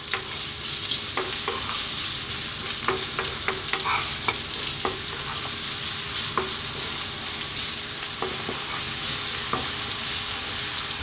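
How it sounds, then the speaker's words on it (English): Onion and chopped garlic fry over medium heat in a pan, a steady close sizzle broken by scattered sharp stirring clicks and scrapes, with no talking. "In goes the onion. In goes the chopped garlic."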